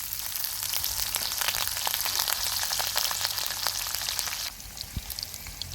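Finely chopped green chillies hit hot oil in a village-style sambar tempering with urad dal and dried red chillies, giving a steady crackling sizzle that drops slightly quieter toward the end, with no talking.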